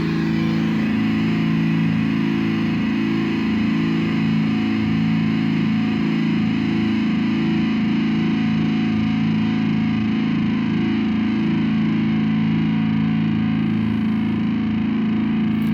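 A loud distorted electric guitar chord through an Orange Micro Dark tube amplifier with a swapped preamp tube rings out and sustains with a warm, buzzing tone, holding steady for the whole stretch.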